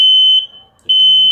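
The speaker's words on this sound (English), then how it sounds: "So there's the smoke alarm." A smoke alarm sounds a test, with loud, piercing, high-pitched electronic beeps close by, separated by a short silent pause.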